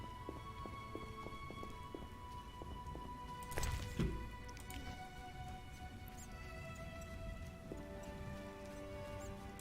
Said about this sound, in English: Oh, all the rain.